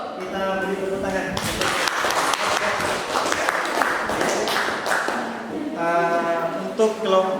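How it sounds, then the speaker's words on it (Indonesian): A group at a teacher-training class discussion session breaks into applause lasting several seconds, with voices talking before, over and after the clapping. "Kita beri tepuk tangan."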